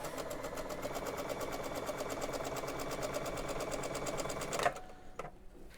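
A sewing machine stitching quilt fabric for a gingham quilt, a fast steady mechanical whir and patter running continuously at close range before stopping abruptly, followed by a couple of faint handling clicks.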